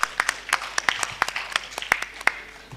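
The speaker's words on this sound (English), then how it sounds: "A big round of applause in his absence." Scattered hand claps from a small group, sharp and uneven, a dozen or so distinct claps over a few seconds rather than a dense ovation.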